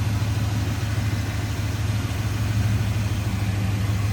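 A 1987 Chevrolet K10 4x4 pickup with factory air conditioning idles smoothly and steadily, its low engine hum held at an even level with no ticking, misses or revving, close by and uninterrupted.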